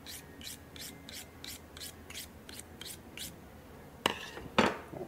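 A knife blade scrapes along a whitetail deer's jawbone during skinning, a close, quiet series of about ten rhythmic rasping strokes, followed by two sharper, louder scrapes near the end.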